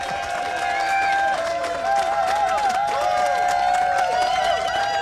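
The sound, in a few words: crowd cheering at CarFest for Rob Brydon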